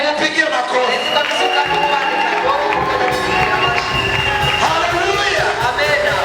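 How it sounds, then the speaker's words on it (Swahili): Wedding guests cheer and applaud for Adelari, a loud, lively crowd of shouting voices and clapping that continues throughout, with some children's shouts mixed in. "Mpigie makofi."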